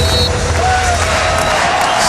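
A sellout basketball crowd in an NCAA 2009 video game roars in a dense, continuous wash of cheering with sneaker squeaks and court noise mixed in. It stays loud throughout the short stretch.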